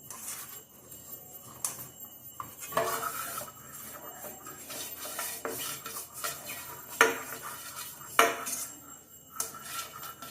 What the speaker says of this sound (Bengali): একটুখানি বাটার নিয়ে কন্টেনারের মধ্যে ভালো করে মাখিয়ে নেব